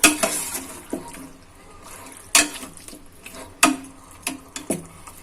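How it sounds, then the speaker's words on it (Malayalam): Red chilli masala for Ambur chicken biryani being stirred in a pan, with a few sharp scrapes and knocks of a spoon against metal over a low sizzle, spaced irregularly and close by. "നന്നായിട്ട് ഇളക്കുക."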